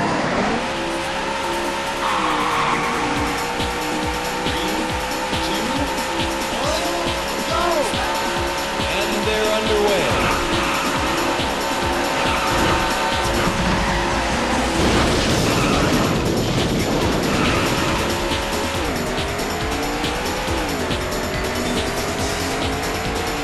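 Race car engines in the arcade racing game Daytona USA roar continuously with loud, layered high-revving whine, shifting pitch as cars accelerate, with tire squeal and skidding bursts mixed into the dense race noise.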